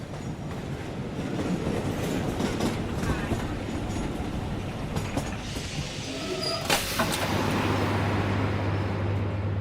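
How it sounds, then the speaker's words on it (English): A train pulls into Victoria Station with a steady rumble of rail wheels, brief squeals and clatter, and a low engine drone that swells as it slows, heard alone without voices. "We chatted about books until the train arrived at Victoria Station."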